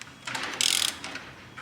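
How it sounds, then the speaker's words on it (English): A used Japanese import engine at a JDM engine depot is turned over by hand to check compression, producing a short mechanical clicking and ratcheting burst with a brief rush of air, close and fairly loud. "he'll spin the motor to make sure it has compression."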